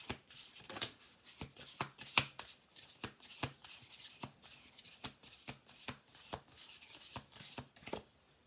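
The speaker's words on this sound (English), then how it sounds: "Let's do 2 more shuffle throughs here." Oracle cards being shuffled in quick riffling bursts, a steady run of crisp flicks and snaps, close and clear with no talking.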